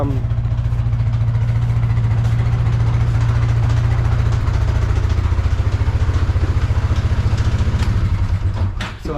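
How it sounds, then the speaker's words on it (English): A quad bike engine runs steadily after starting in a shed at a snowy Canadian cabin, a loud, close, throbbing idle that carries on evenly before cutting at the end. "see if the quad bike would start, and it started straight up"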